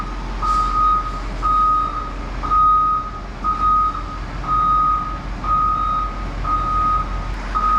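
CAT D10R bulldozer backing up: a loud, steady series of about eight evenly spaced reversing beeps over a low diesel rumble.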